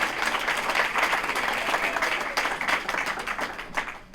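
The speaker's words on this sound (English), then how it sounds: "Let's have another round of applause." Audience applause fills a hall at a county supervisor's State of the District address, a dense steady wash of many hands clapping that holds for several seconds before thinning slightly at the end.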